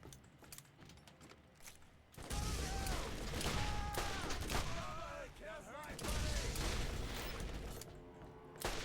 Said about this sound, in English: So I can just chuck a grenade right here.